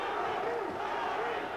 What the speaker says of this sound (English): And the crowd chanting for the truth.